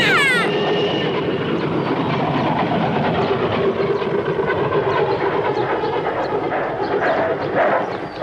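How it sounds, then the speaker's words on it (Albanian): Cartoon train, a continuous rolling rumble with rhythmic clickety-clack of wheels on rails, steady and fairly loud throughout, opening with a brief high whistle-like sweep. "Ja ku është treni ynë"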